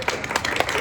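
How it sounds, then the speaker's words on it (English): Audience applause after a student government presidential debate, dense overlapping handclaps filling the whole brief moment at a steady, fairly loud level. "Can we have a round of applause?"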